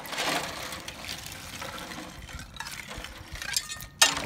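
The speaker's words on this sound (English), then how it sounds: "All right, I'm going to give them a little stir up one more time." Crawfish are stirred in a large boil pot of water, giving sloshing, scraping and clinking sounds close by, with a sharp clink near the end.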